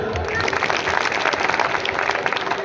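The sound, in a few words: loud applause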